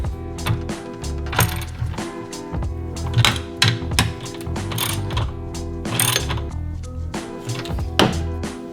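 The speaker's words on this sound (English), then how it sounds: "So now I just need to throw the bolts back in." Bolts being threaded and ratcheted back into a Mazda NC Miata engine bay after fitting a Moroso power steering tank, rapid clicking ratchet strokes in uneven bursts with metallic clinks, close and fairly loud.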